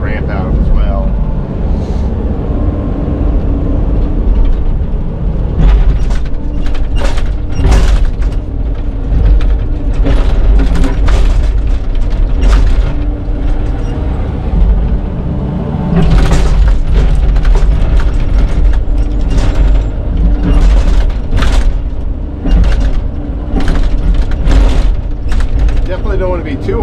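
Digging machine excavating a basement and cutting out a dirt ramp, its loud, steady mechanical rumble running throughout with clanks, knocks and heavy thuds as sections of soil break away and drop.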